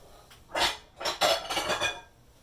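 Kitchen dishes and a mixing bowl clattering on a counter, a few quick clinks and knocks in short bursts, close and fairly light.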